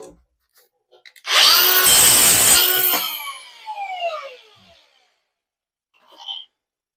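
A power cutting tool bites into the rusted, filler-patched rear wheel arch of a 1982 VW Vanagon, giving one loud, harsh grinding burst of about two seconds that winds down with a falling whine, then quiet.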